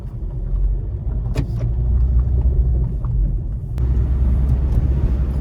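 A car fitted with an AMG pack pulls away with a loud, low engine rumble from inside the cabin, steady for a few seconds with a brief dip and a click partway through.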